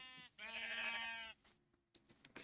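Sheep bleating in the Nintendo 3DS edition of Minecraft: one long, loud, wavering bleat lasting about a second, followed by faint scattered game clicks and small sounds.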